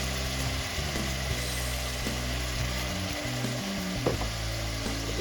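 Ginger-garlic paste frying in oil with a fish head for muri ghonto, a constant close sizzle layered over low hum and scattered clinks of stirring, no voices.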